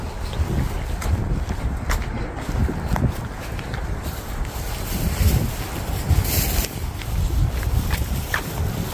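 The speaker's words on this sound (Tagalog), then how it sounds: "Grabe, ang lakas ng hangin." Strong gusting wind outdoors in snowy weather buffets the microphone in a constant loud roar, with occasional thumps and rustles beneath it.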